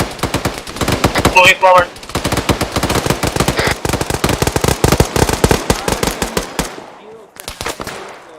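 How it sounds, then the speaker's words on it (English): Rapid bursts of rifle and machine-gun fire crack through a live-fire training exercise in the ArmA military game, loud, close and nearly continuous, with a short spoken line partway through and the shooting thinning out near the end. "Ceasefire, live fire exercise for Bravo recruits."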